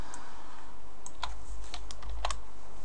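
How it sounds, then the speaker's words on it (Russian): Arrow keys on a computer keyboard pressed one at a time, about a dozen sharp close clicks at an uneven pace over a low steady hum. "Я сейчас буду нажимать стрелочку вверх."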